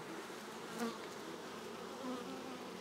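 Steady, dense buzzing of many Buckfast honey bees close by inside a hive, a continuous hum with small swells in loudness.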